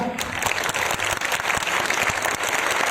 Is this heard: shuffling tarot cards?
no